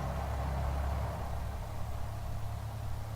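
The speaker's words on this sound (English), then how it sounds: "sometimes when we're recording, you hear mostly engine noise" Steady, droning aircraft engine noise from an X-Plane flight simulator fills the whole stretch, a constant broadband hum with low rumble and no talk.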